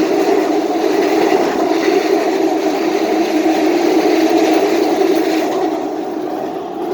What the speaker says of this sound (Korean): 지하철 2호선이 잠실철교 북단 강변역에서 힘차게 출발해서 잠실철교 남단 잠실 나루역으로 진입하고 있고요